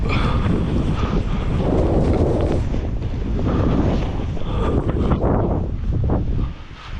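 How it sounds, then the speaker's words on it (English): A backcountry blizzard on Brighton Mountain brings 30–50 mph winds with thunder. Loud, continuous roaring gusts buffet the microphone, with deep rumbles mixed in throughout. "it is a blizzard with lightning and everything"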